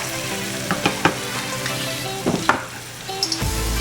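Crushed tomatoes hitting hot rendered bacon fat in a pan on high heat, a steady loud sizzle with a few sharp splattering pops and stirring clatters, then the sizzle briefly dropping.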